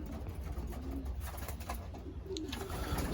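Racing pigeons coo softly in a loft, a few low murmuring calls rising over a quiet, steady background hum.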